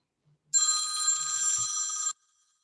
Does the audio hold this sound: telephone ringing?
yes